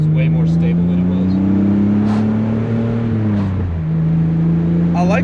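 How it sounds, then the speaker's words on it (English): A Nissan S12 200SX fitted with a V6 drones steadily from the cabin while driving, its deep engine and exhaust tone holding a low even pitch and easing briefly before picking up again, with occasional chatter from people inside. "I like the deep tone of the V6. It does sound It nice."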